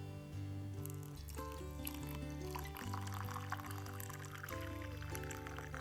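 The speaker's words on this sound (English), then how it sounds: "And then we're going to add our hot water." Hot water pours steadily into a cup holding lemon, ginger and syrup, a soft continuous splash faint under background music.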